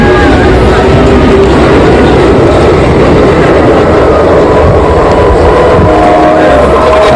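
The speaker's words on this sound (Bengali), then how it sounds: "দেখতেই পাচ্ছ ট্রেনটা বেরিয়ে যাচ্ছে" A train rumbles loudly close by with rhythmic wheel clatter and a horn blast, steady and continuous as it moves off.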